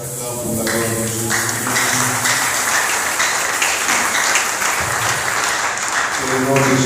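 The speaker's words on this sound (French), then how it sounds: "Acclame pour la gloire de Jésus." A church congregation applauding during a Sunday French-language worship service, with steady broadband clapping throughout alongside sustained tonal music, likely organ or keyboard, and some voices mixed in.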